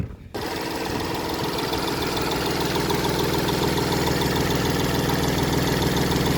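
A 2017 Hyundai Grand i10 diesel's three-cylinder engine idles steadily with a continuous, slightly uneven throbbing hum, close by and loud, with no talking.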